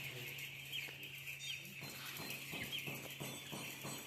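Young broiler chicks, about six to seven days old, cluck and chirp in cages inside a poultry shed, soft scattered calls over a low steady hum, faint and close.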